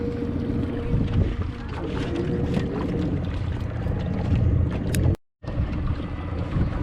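A Riverhawk B60 boat engine drones steadily while under way on a lake in Winter Haven, with loud wind buffeting across the microphone and a brief dropout near the end.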